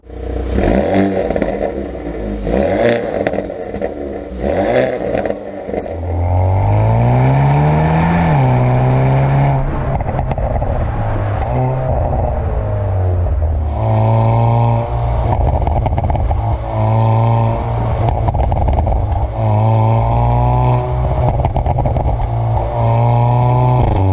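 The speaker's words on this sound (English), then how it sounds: "it has a pretty nice sounding exhaust. Take a listen." A 2022 Hyundai Veloster N DCT's exhaust roars loud and close as the engine is revved repeatedly, each rise in pitch followed by a drop back to a throaty idle, with no talking.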